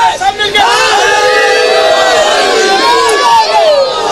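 A crowd at a religious gathering shouts back in unison in response to a slogan, a loud, sustained chorus of many voices rising and falling together and heard close.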